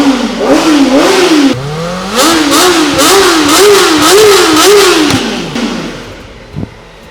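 A Kawasaki ZX-4RR motorcycle engine revs hard in a quick series of sharp throttle blips, its pitch climbing and dropping again and again, loud and close, before settling back toward idle near the end.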